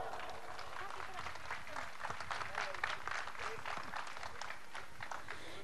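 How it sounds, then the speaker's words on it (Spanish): Outdoor crowd applauding to welcome the municipal mayor at a football pitch handover event in Cochabamba, a quiet, distant patter of clapping with shuffling and murmured voices mixed in. "Por favor, reciban con un fuerte aplauso."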